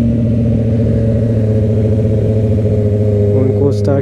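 Honda CB650R motorcycle engine running close by as the rider pulls over, a steady, loud mid-pitched harmonic drone with a faint rattle, ending with a brief high chirp.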